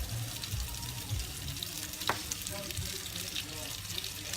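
Mashed potato, butter and milk mixture frying in a pan with a little olive oil, a quiet steady sizzle with a few soft clicks.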